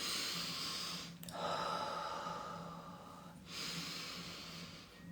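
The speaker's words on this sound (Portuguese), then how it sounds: "Uma respiração circular. Inspira pelo nariz, expira pela boca." Slow, steady breathing exercise: long drawn inhales through the nose alternating with fuller exhales through the mouth, close and clear, with no talking over it.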